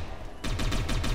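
Rapid automatic gunfire from the game Satellite Reign, a steady rattling burst of evenly spaced shots that gets louder partway through, dense and close.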